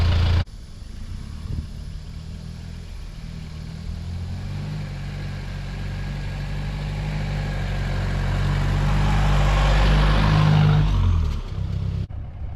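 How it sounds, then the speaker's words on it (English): A Mahindra Roxor's low engine idles steadily as it crawls slowly over off-road obstacles, growing gradually louder and fuller before dropping off abruptly near the end. "just idling over that stuff"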